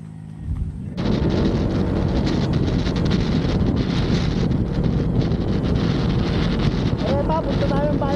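A motorcycle is ridden: the engine's drone and heavy wind buffeting start abruptly after a second and stay loud and steady to the end, with faint voices in the background.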